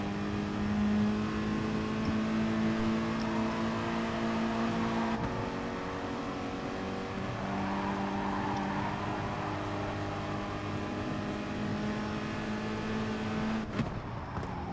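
Race cars in the GT Sport video game drone loudly and steadily for the whole stretch. Layered engine tones shift as the cars jostle in a close pack, with a small disturbance near the end.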